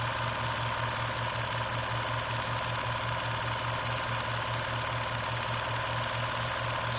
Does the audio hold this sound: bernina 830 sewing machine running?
yes